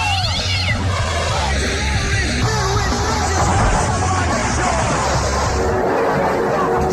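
A cat meows repeatedly beside a swimming pool where children play, its cries rising over a background of splashing, bustle and murmuring voices.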